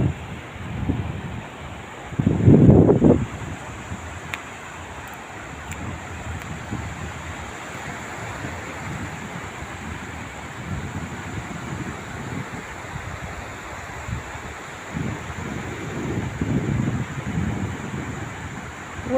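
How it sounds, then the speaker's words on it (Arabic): Mediterranean Sea surf rolling onto the beach at Port Said in autumn, a steady broadband wash with wind rumble over the microphone and two louder breaking swells near the start and end. "ده البحر الأبيض المتوسط في بورسعيد."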